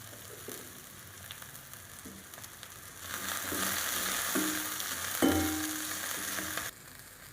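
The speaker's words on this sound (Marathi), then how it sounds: "आता हे 2 मिनिटं आपल्याला परतून घ्यायचे आहे" Green chillies sautéing in hot oil in a pan: a low crackling sizzle that swells louder midway, with occasional spoon scrapes and stirring clinks, close up and without any voices.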